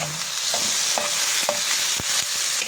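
Tomatoes fry for chicken adobo in a hot pan with a loud, continuous close sizzle, while a spoon stirs and scrapes with a few knocks.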